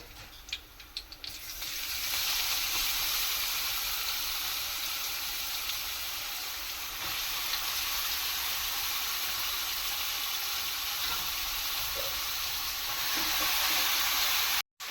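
Beetroot tossed into hot oil with chillies starts a steady, loud sizzle in the pan. A few clicks and stirring scrapes come at the start, then the frying hiss carries on unbroken until an abrupt cut at the end.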